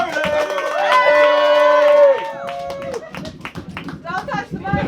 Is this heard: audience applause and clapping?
yes